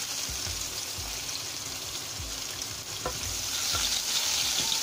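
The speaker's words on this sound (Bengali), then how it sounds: "এখন এই তেলের মধ্যে আমি পেঁয়াজ কুচি দিয়ে দিলাম।" Chopped onion drops into hot oil left in a pan after frying fish, giving a steady bright sizzle with occasional soft stirring taps and no talk.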